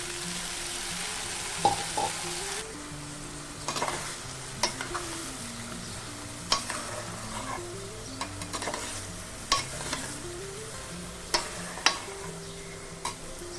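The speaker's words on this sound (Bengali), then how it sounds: "সর্ষেটা আমি ভালো করে মিশিয়ে নিয়েছি লতির সাথে।" Fried taro stolons with mustard paste and green chilli sizzle gently in a pan, while a spatula stirs and scrapes them in intermittent knocks over the steady frying hiss.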